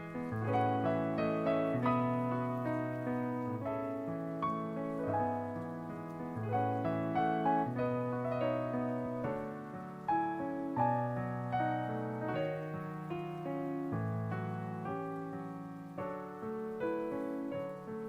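Piano notes play back in a steady, flowing passage of chords and melody, clear and sustained, with no voices.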